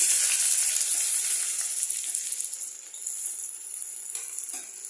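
Chopped onions fry in hot oil with bay leaf and a little sugar for an egg curry, giving a loud, bright, continuous sizzle that eases slightly over time, with a few faint stirring knocks near the end.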